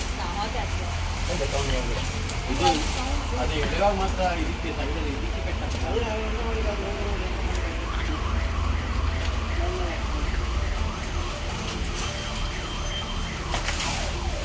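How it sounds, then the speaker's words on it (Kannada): An ambulance siren wails through busy street noise and traffic, with people talking nearby throughout. "ಆಂಬ್ಯುಲೆನ್ಸ್"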